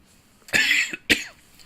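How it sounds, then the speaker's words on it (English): A sick man coughs twice in quick succession, close to the microphone, in an otherwise quiet room. The first cough is a longer rasping burst and the second is short and sharp. "if I do occasionally cough, sorry about that"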